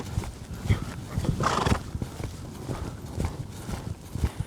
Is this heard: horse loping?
yes